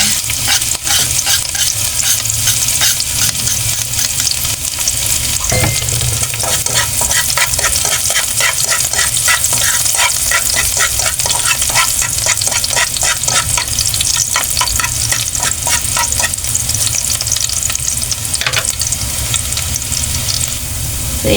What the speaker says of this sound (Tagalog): Igisa na natin to ating ricado. Ang ating sibuyas.